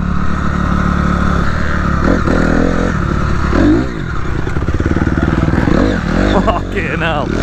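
A Honda CRF250R dirt bike being ridden, its engine buzzing and revving loudly and close with shifting pitch, under people talking.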